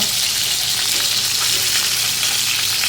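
Loud, dense sizzling of fish frying in hot oil, a continuous crackling hiss with steady spitting pops throughout.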